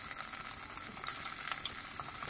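Finely chopped onion goes into hot oil with browned garlic for chana masala, producing a steady, dense sizzle and crackle, close up and continuous throughout, with no voices.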